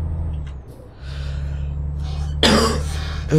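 Several short, harsh coughs close to the microphone, one loud burst followed by another, over a low steady truck engine hum from Euro Truck Simulator 2.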